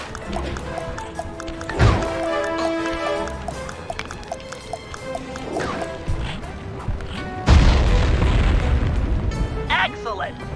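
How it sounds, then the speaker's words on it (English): Dynamite placed by a balloon's anchor in a Sly Cooper game blows up in heavy booming blasts. One loud explosion comes early and a bigger rumbling one hits later, over game music and character voices. "Place the dynamite when you get near the anchor, or kaboom!"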